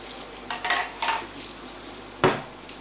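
Minced beef pie filling with added stock bubbles in a pan while a spoon stirs it, giving a few short scraping bursts and one sharper clatter against the pan, close and fairly quiet with no talking.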